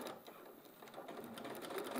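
A sewing machine runs steadily on a longer stitch setting, stitching fabric with a continuous close mechanical whir and rapid needle clatter, alone and fairly loud throughout.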